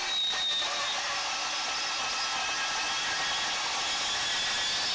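Ryobi 18V cordless band saw cutting through metal, a steady loud high-pitched grinding whine with a constant hiss that holds for the whole stretch, no talking.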